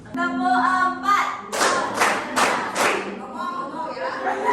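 A classroom of students stands and performs a rhythmic group clap pattern, several sharp, loud bursts of clapping in sequence, following a teacher's spoken lead.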